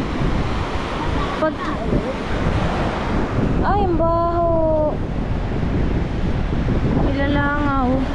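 Rough sea waves breaking on a littered, garbage-strewn beach after bad weather, a loud, steady surf roar buffeted by wind on the microphone, while someone talks briefly over it and another voice calls out.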